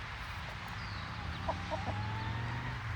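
A mother hen guards her three-week-old chicks among the rest of the flock, giving a few soft, close clucks over a constant murmur of other chickens and yard background.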